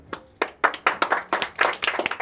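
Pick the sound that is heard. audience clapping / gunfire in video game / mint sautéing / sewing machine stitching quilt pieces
audience clapping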